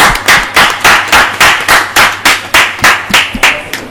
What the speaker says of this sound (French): est-ce qu'on peut applaudir très fort pour le grand public qui nous regarde?